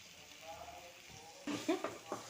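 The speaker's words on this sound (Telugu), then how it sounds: "ఇలా ఫ్రై కలుపుకుందాం బాగా" A spiced mixture with added chili powder stir-fried in a pan for a leafy-greens dish: a steady soft sizzle, with louder scraping stirs in the second half and a voice talking over it.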